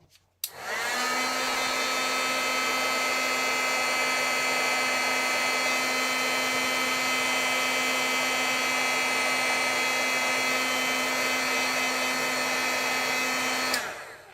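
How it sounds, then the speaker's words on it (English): Heat tool used to heat-set stamped ink, switched on with a click and running as a steady, loud, whining blower for about thirteen seconds before cutting off. "I'm gonna heat set this."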